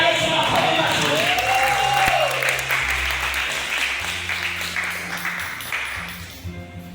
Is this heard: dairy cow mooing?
no